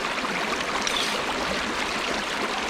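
Water running steadily through a gold panning sluice in a clear stream, a continuous close rushing and trickling with no voices.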